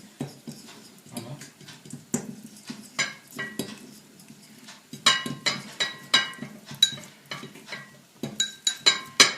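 Butter and chocolate squares being stirred together in a bowl for a millefeuille, with repeated clinks and scrapes of a utensil against the dish in an uneven rhythm, louder in the second half.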